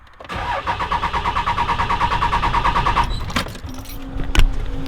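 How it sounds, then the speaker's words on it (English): An old Mopar 361 farm truck engine cranks rhythmically for about three seconds without catching, the starter's pulsing whirr close and loud, followed by clicks and clunks. "So we'll go ahead and see if we can get this truck to start."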